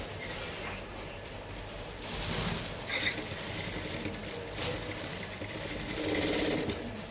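A sewing machine stitches a concealed zipper into trousers, running in a steady, close whirring hum with fine rhythmic needle clatter throughout.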